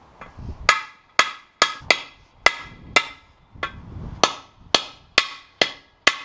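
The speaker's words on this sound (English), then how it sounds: "I'm just gonna hammer them from the top to pop them loose" Repeated sharp metallic hammer strikes on bolts of a 2001 Honda Accord's catalytic converter, about a dozen blows at an uneven steady pace, close and loud with short ringing decays between hits.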